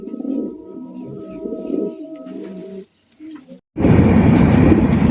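A male sabji racer pigeon coos repeatedly up close in a run of throaty, rolling calls, then a brief pause gives way to a loud burst of broadband rushing noise.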